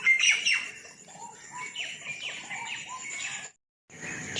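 Several birds chirp and call in a quick, overlapping stream at moderate distance, a high squawk standing out near the start, before a brief break in the sound.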